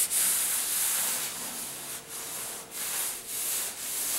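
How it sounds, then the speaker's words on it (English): Steady abrasive rubbing of sandpaper across a body panel on a 1977 Camaro Z28 during bodywork, a soft continuous hiss with rhythmic strokes and short pauses, close and fairly quiet with no talking. "let me sand this down"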